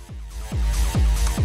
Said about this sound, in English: Proper hard techno.